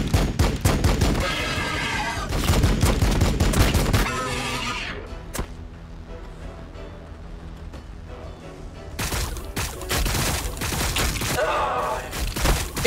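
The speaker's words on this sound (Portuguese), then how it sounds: "We're taking fire." Dense, loud bursts of gunfire and explosions in the Warhammer 40k Battlesector video game, rapid crackling volleys that drop away into a quieter stretch before erupting again.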